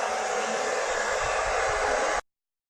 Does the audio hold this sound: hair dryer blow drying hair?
yes